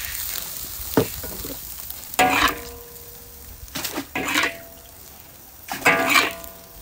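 Chili and eggplant dry-frying in a pan with no oil at a Miao village kitchen: bursts of sizzling and stirring scrapes come in several short waves over a quiet background, with no talking.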